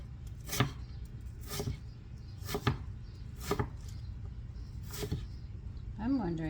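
An onion is chopped on a board for a broccoli salad, with about six sharp, evenly spaced knife strikes, close and clear, and a voice starting to speak at the very end.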